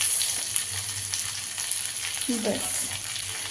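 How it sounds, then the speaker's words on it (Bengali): Green capsicum with red and yellow bell peppers fry with browned onions for Schezwan chicken, a steady close sizzle broken by a brief clatter of stirring. "এবার দিয়ে দিচ্ছি capsicum green red bell papers and yellow bell papers"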